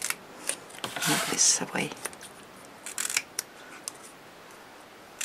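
Scissors snip through scored paper for a paper crown, a quick cluster of crisp cuts followed by a few more later, close and fairly quiet, with a soft voice speaking briefly.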